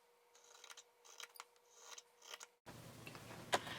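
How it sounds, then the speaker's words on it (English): Scissors snip fleece fabric into fringe along tape markings, a run of quiet, irregular crisp cuts close by, followed by a louder rustling stretch with one sharp snap. "Now I'm going to cut from the edges to the markings on the tape."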